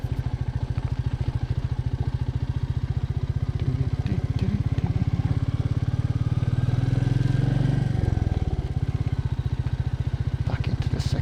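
Royal Enfield Meteor 350 motorcycle ridden off-road in second gear, its single-cylinder engine chugging in a loud, close, even thump, with a brief surge around the middle before settling back, rough-terrain clatter mixed in.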